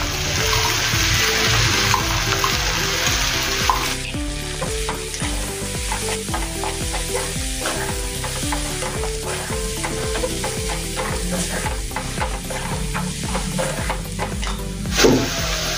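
Coconut masala sizzles and fries in a pan with guar beans while being stirred, a steady crackling hiss with repeated scraping strokes of the spoon, close and moderately loud.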